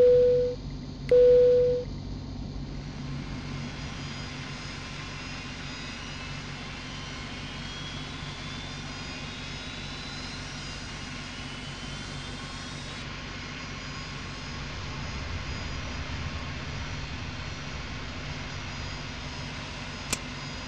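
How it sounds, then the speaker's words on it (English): Airliner engine number 3 spooling up on start, a steady rising jet whine over a low rumble that holds for the whole stretch, after two short tones at the outset, with no talking. "Starting engine number 3."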